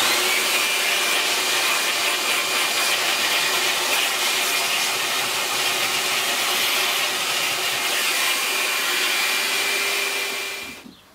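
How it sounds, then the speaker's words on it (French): A vacuum cleaner runs on a car floor mat with a steady, loud whine and rushing suction that continues without a break before cutting off at the end. "il va falloir aspirer le tapis de sol."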